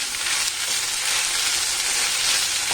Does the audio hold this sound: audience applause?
no